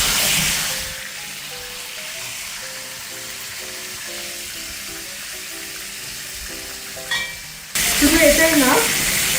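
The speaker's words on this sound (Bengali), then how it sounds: "লবণের কারণে তেল ছিটছে" Hot oil spits and crackles while stuffed pointed gourd (potol dolma, filled with shrimp) fries in a pan, salt making it splatter. The sizzle holds steady under faint tonal sounds, with a brief clatter near the end and a louder burst of frying after it.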